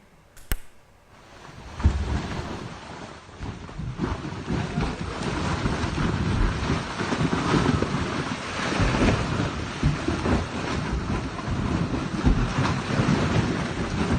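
Gas and mud blasting up about 20 meters from a recently dug residential well in North Aceh, a loud, continuous roaring rush that surges in after a brief quiet start and holds steady with gusty turbulence.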